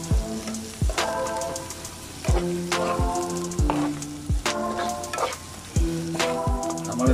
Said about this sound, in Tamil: நல்லா வெங்காயத்தை முருகில் நல்லா ஃப்ரை பண்ணிக்கிறேங்க.